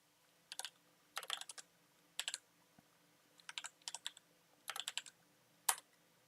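Fingers type on a computer keyboard in short irregular bursts of quick clicks with brief pauses, close and fairly quiet against a silent background.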